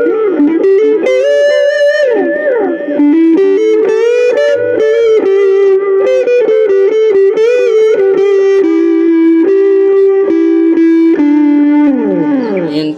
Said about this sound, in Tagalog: So ito yung yung tunog na may kasamang distortion then delay